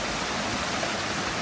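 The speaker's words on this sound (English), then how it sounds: "So here's the creek." A creek flows steadily below a steep bank, a dense, continuous rush of running water that stays loud and even from start to finish with no voices.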